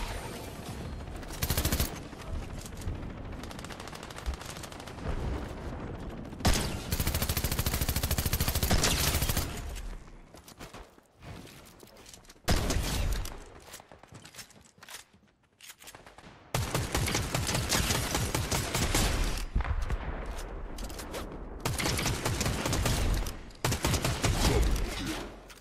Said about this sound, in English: Could you stop sniping me?